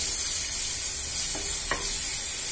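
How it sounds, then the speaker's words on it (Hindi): Ground onion paste sizzles steadily in a hot pan of oil while being stirred for palak paneer, a loud continuous frying hiss with a couple of soft scraping stirs, no voices. "अब हम इसमें पिसे हुए प्याज डाल देंगे, अच्छे से मिक्स कर लेंगे।"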